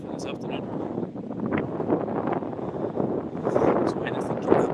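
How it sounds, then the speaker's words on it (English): Strong wind buffets an outdoor microphone at Moffat Golf Club, a steady broadband roar with gusty swells throughout, while indistinct voices murmur underneath. "I'm sure you can tell it's very windy here in Moffat this afternoon"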